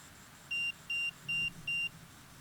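An EMF detector gives four evenly spaced, high electronic beeps during a paranormal investigation in a quiet building, each about a fifth of a second long, with a faint low rumble underneath.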